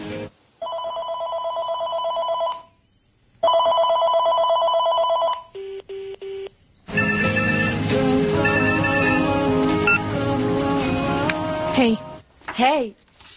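An old-style telephone bell rings in loud repeated bursts with short gaps, followed by a stretch of tonal music in a dubbed thriller film scene.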